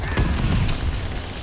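Grenades and stun grenades go off in the video game Call of Duty Vanguard: a brief cluster of deep, muffled booms with a sharp crack in the middle, then fading rumble.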